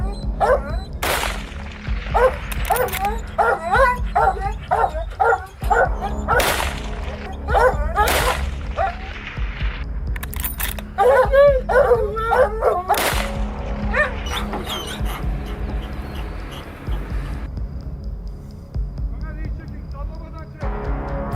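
Hunting dogs barking and yipping in a forest during a boar hunt, with sharp repeated barks in bursts and some whimpering, mixed with whip-like cracks and a talking voice.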